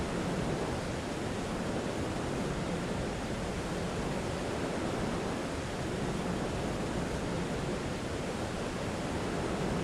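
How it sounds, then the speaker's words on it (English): A waterfall in the video game Fate/Grand Order gives off a steady, even rush of falling water, a soft, unbroken wash with no talking over it. "that's a waterfall, alright"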